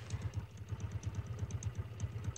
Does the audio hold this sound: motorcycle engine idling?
yes